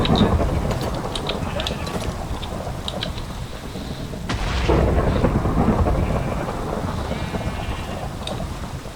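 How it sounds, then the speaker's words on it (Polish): Minecraft thunderstorm with rain: a continuous hiss of rainfall under low rumbling, broken by a sharp thunder crack near the middle that rolls on for several seconds. "Kurde, jest burza"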